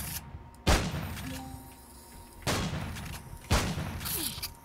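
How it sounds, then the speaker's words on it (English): Sentry turrets firing in Empyrion Galactic Survival, three separate heavy booming blasts spaced a couple of seconds apart, each with a short rumbling tail over a low background hum. "Sentry turrets."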